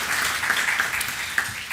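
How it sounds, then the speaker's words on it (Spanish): Audience at an academic arbitration panel gives a short, steady round of applause for the panelists, a soft, even patter of clapping lasting under two seconds. "Le recibimos con fuertes votos de aplausos a los panelistas"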